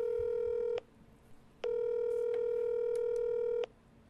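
Steady telephone tones, likely from a prank call, sound close and clear: one short tone, a pause, then a longer sustained tone, with no voices over them.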